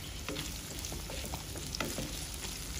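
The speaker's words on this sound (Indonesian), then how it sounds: "Tumis bumbunya sampai wangi ya." Ginger and turmeric spice paste sautéing in a pan for an Indonesian fish soup, a steady close sizzle with occasional soft stirring scrapes, continuous and without voices.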